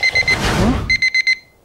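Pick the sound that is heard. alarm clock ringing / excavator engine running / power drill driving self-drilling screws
alarm clock ringing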